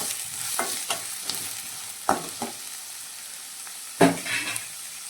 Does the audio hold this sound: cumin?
yes